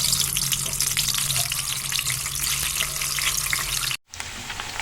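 Eggs frying in hot refined oil give a dense, loud, continuous sizzle close up, broken by a sudden brief dropout near the end before the crackle resumes.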